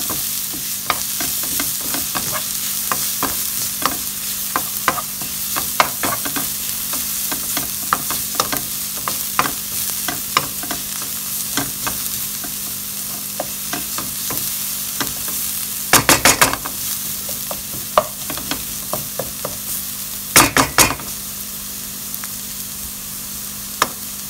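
Carrots frying for a ragu sauce, a continuous close sizzle broken by frequent sharp scrapes and taps of a spoon against the pan, with a couple of louder clattering stirs.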